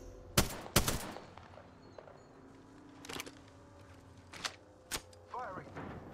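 Battle royale video game gunfire with several sharp shots and short bursts spread across the scene, some loud and close, others fainter, over a low ambient bed, with brief talk from a player.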